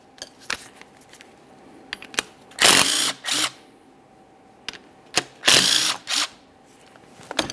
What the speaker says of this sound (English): Remove each of those two bolts.